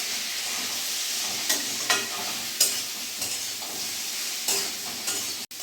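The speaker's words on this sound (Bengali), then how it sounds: "এবার ভালো করে একবার নাড়াচাড়া করে নেব।" A spoon stirs ground cumin and Kashmiri chilli powder frying in a pan for a Malabar spinach dish, with steady close sizzling broken by several scraping strokes.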